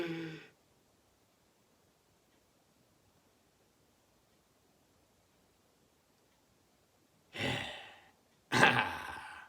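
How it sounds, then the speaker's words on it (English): Several people take three big breaths together: short, airy breathing sounds come at the start and again near the end, with near-silence between them and no talking. "Let's all take 3 big breaths and think of 3 good things."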